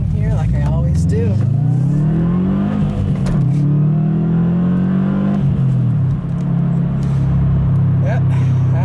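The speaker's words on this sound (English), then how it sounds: "I'll leave you with a nice little acceleration here" A 2013 Subaru WRX accelerating hard, its engine note climbing through the gears in loud rising sweeps with brief dips at each shift, heard from inside the car.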